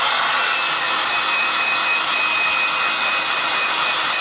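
A hair dryer blows steadily on a watercolour painting of a Bugatti Veyron, a continuous close airy whoosh that holds at one loudness throughout with no talking.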